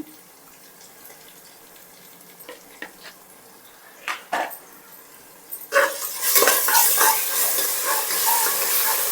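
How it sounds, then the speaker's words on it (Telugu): Ginger paste hitting hot oil in a pan for bagara rice, with a few quiet scrapes and clinks of stirring before a loud, steady sizzle bursts up and continues close by, alone with no talking. "ఇంకొంచెం వేగాలి వేగితే అల్లం పేస్ట్ కూడా వేసుకుందాం అల్లం పేస్ట్ ఇంత వేగితే సరిపోద్ది అల్లం పేస్ట్ వేస్తున్నాను"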